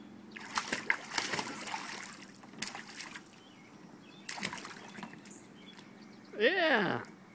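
A belly flop into a swimming pool lands as a broad, loud splash near the end, set against earlier splashing and voices around the water.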